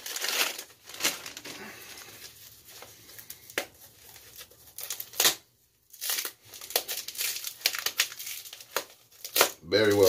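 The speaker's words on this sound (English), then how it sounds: "I'm going to open this package here." Plastic and cardboard packaging of a cologne or aftershave product crinkles and tears as it is opened by hand, in close bursts of rustling with short pauses between.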